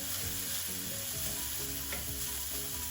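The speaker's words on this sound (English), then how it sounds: "You just need to saute a little bit." A steady, even sizzle of sautéing in olive oil in a pan, made while cooking Persian mixed lentil rice, continuing without pause at moderate volume and with no voices.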